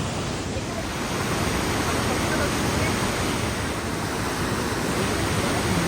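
Water gushes out of underground pipes below Devi's Fall in Pokhara as a loud, steady broadband rush with no breaks, close by and continuous.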